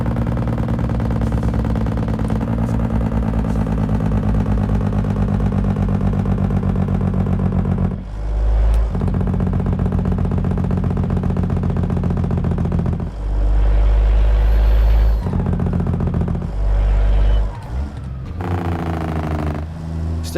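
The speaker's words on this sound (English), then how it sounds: "Look, it's a low RPM, Jake" A truck engine idles and lugs at low RPM in a truck driving simulator game, a loud, steady low drone that shifts in pitch and roughness several times across the stretch.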